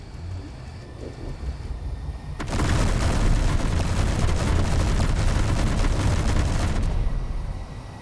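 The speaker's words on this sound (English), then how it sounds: "That's quite a bit of ammo going down range" Ship-mounted guns in Space Engineers open up in a sustained, dense barrage, a loud continuous roar of rapid fire that starts abruptly, holds for about four seconds and then cuts off, over a low background hum.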